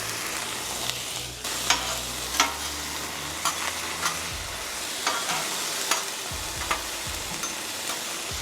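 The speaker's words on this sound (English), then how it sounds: "I'm going to add some beef tallow. Throw down some diced potato." Diced russet potatoes with skin on sizzle in beef tallow on a Wildfire griddle at medium-high heat, a steady close hiss punctuated by repeated sharp spatula scrapes and taps.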